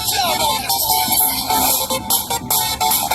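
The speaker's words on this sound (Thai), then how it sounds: "อ่ะฟังไปก่อนนะ EDM นะครับ" EDM track playing through the small built-in speaker of an Ai11-5G smartphone, loud and continuous with a steady dense beat and bright synth layers, heard close up with no talking over it.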